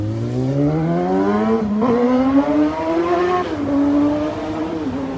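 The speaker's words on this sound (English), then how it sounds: "Did you hear that motorbike?" A single motorbike, likely a Suzuki GSX-R 600, climbs through its gears outside, revving up steadily with brief shifts as it passes, loud and alone.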